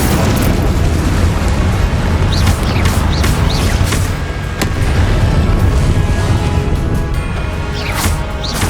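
Loud, dense roaring blasts of spell combat in Hogwarts Legacy, such as Confringo, rumbling continuously with bursts and crashes throughout and only a brief dip midway.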